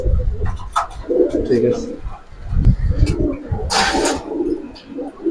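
Giribaz pigeons, a matched male and female pair, give soft repeated coos close by, mixed with rustling and a burst of wing noise while someone talks over them.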